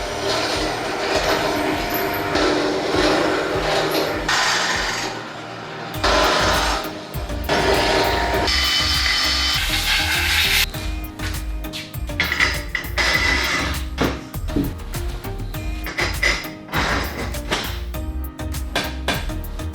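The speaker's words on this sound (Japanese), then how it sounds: "なので 8mm の穴ですね、開けていきます" A drill boring 8 mm holes through a movable workbench frame for M8 bolts, a harsh grinding roar in long bursts with brief pauses and clattering between holes.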